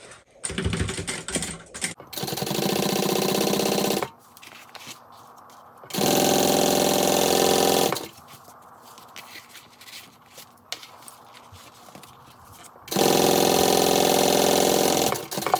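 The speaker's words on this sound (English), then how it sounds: "We're just going to top stitch along the top edge using a 1/8 inch seam allowance." A sewing machine top-stitches along the top edge of a handbag in several steady, even bursts of rapid stitching, close and clear, separated by quiet pauses.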